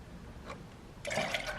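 Milk being poured into a pot, a soft liquid trickle that swells into a fuller splashing pour in the latter half, quiet and close.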